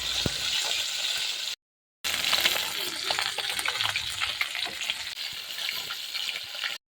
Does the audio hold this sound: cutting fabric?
no